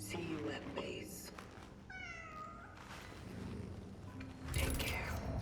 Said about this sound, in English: This is no place for a cat.